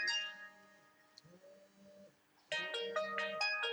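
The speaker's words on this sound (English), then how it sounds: "that's my phone ringing" A mobile phone ringtone plays a bright electronic melody, a short phrase, a pause, then a louder, denser burst of tones, close by in a quiet room.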